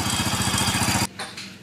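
A motorcycle engine runs with a loud, pulsing rhythmic chug and then cuts out abruptly partway through, leaving only faint, sparse background noise.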